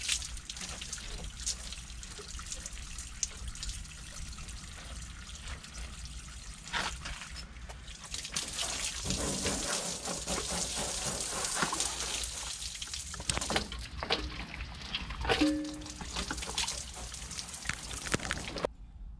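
Water spraying and trickling while a van is washed, a steady dribbling wash with splashy surges partway through, fairly faint and with no talking.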